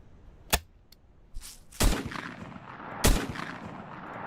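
Several sharp, separate shotgun blasts fire pellets in a video game, a few loud reports spaced about a second apart with short decaying tails and a quieter click between them.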